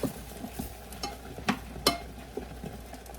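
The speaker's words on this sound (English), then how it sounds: "So this is boiling, it's doing good. I'm gonna give it a stir." A spoon scrapes and stirs through a pot of boiling Sloppy Joe mixture with carrots, giving soft irregular scrapes and clacks over a low bubbling sizzle, close but quiet.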